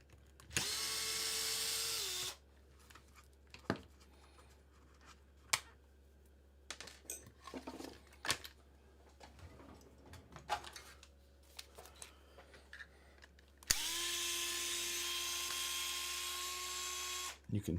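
A cordless battery-powered drill whirs in two loud bursts near the start and the end, its motor pitch sliding as it spins up, with clicks, clunks and handling noises from workshop work between the bursts.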